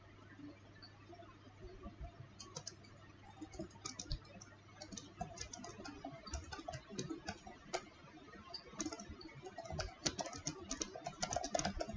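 Fingers type an essay on a computer keyboard in a steady stream of quiet, close key clicks with brief pauses, a faint low hum running under the first half.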